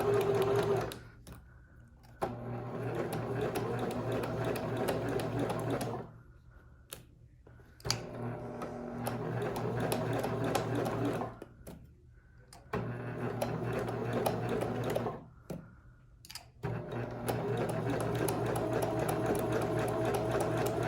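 A sewing machine stitches a tote bag in bursts of rapid mechanical whirring, back stitching then running forward, with short quiet pauses between runs.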